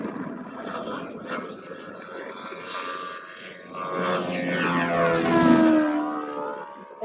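A Hangar9 P-47 radio-controlled model warplane makes a low, fast pass, its engine drone swelling and shifting pitch as it draws near, peaking loud before fading slightly, with no talk over it.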